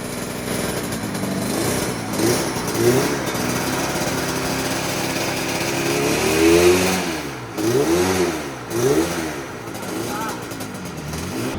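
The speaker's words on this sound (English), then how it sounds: "Fired up the 350 again. You can hear it drop to one cylinder and it's just not running right." A 350 motorcycle engine revs up and down repeatedly, running roughly and uneven as it drops to one cylinder, with rising and falling swells toward the end, loud and close.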